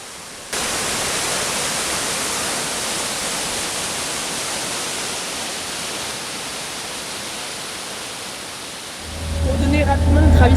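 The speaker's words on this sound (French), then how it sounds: "Et là, on est aux cascades de Girlevik, quelque chose comme ça." The Girlevik waterfall in Eastern Anatolia, Turkey, gives a steady, loud, hissing roar of falling water that starts abruptly and continues evenly, with a low rumble and other sounds joining near the end.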